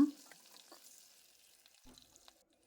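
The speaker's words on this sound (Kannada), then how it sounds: "ಬೆಳ್ಳುಳ್ಳಿ ಸ್ವಲ್ಪ ಕಲರ್ ಚೇಂಜ್ ಆಗೋವರೆಗೂ ಎಣ್ಣೆಯಲ್ಲಿ ಚೆನ್ನಾಗಿ ಫ್ರೈ ಮಾಡ್ಕೊಳ್ಳೋಣ" Garlic frying in hot oil with curry leaves and asafoetida, a soft crackling sizzle with a brief louder burst at the start and scattered pops and stirring, fading toward the end; no talking.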